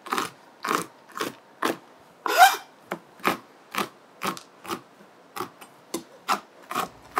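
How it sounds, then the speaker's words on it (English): A knife roughly chops large peanuts in half on a board, giving a steady series of sharp crunching cuts, about two per second, close and clear with no talking over them. "Trying to get some of these big peanuts just chopped in half at least."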